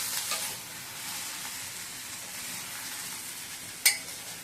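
Sautéed mango being stirred into cooked dal in a pan for mango dal, with a steady soft sizzle and scraping of the spoon throughout and one sharp clink of the utensil against the pan near the end.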